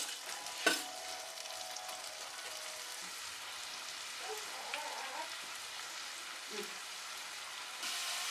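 Garlic and crushed onion sautéing in oil for a chicken curry, a soft, even hiss of frying with an occasional utensil tap, fairly quiet and close.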